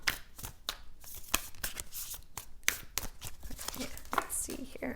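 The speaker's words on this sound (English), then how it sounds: "I'm going to give these one more shuffle." Tarot cards are shuffled by hand in quick, irregular riffles and soft slaps, close and quiet, with brief pauses between bursts.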